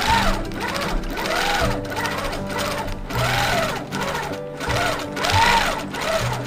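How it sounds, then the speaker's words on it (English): A sewing machine stitches a crochet spider web in rhythmic bursts, its needle chattering fast and fairly close, with short pauses between runs and no speech. "Are we stitching? Yeah, we're stitching."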